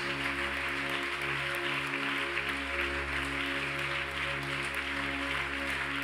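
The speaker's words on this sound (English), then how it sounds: "Clap those hands, please." Church congregation clapping hands in a steady, continuous wash of applause, moderately distant, over a sustained held musical drone from instruments.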